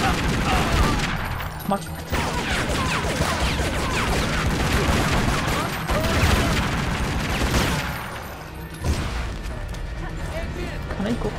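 Sustained gunfire in the action game Tomb Raider: Legend, a dense, loud barrage of shots and impacts running nearly continuously with brief lulls, while a person talks over parts of it.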